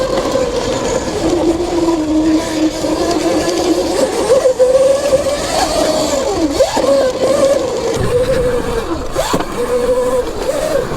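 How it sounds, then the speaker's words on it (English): A Surron electric dirt bike fitted with an ETM mod motor accelerates hard, its loud whine sweeping up and down in pitch as the rider pushes it through repeated surges, close by and with no talk. "It really wakes up the bike."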